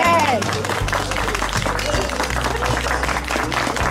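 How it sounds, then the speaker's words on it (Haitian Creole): Guests at a Haitian wedding in Chile clap for the newly declared husband and wife, producing steady, dense applause over low background music, with voices mixed in. "Applaudissez s'il vous plaît."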